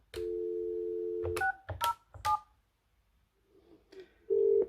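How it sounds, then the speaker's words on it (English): Keypad dialing on a Yealink T31/T27 desk phone: a long steady tone, then several short beeping button presses, a pause, and another steady tone, all clear and close. "Pressing the conference button will put the call on hold whilst you then dial the second number"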